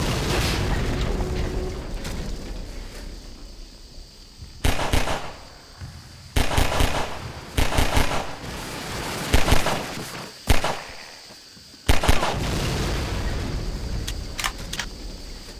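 Headcrab canisters shelling in Half-Life 2: a rumbling bed broken by several sharp, loud booming impacts at irregular intervals, with bright crackling bursts and debris, some close and some farther off.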